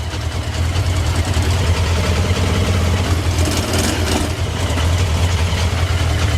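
A Honda 600 Transalp motorcycle engine idles steadily right after starting, a loud, continuous low rumble held close up with no talk over it.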